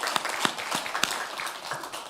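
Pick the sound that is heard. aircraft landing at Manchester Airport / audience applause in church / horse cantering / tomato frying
audience applause in church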